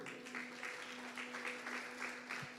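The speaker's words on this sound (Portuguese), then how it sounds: "Você pode aplaudir a Jesus?" A church congregation claps through a Portuguese-language service, a dense, steady patter with a low hum underneath and no voices.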